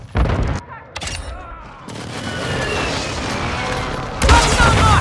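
Explosions from a precision airstrike in Call of Duty: Modern Warfare II, loud booming bursts and a rolling rumble through most of the stretch, with a fresh heavy blast near the end and radio-style voices between hits.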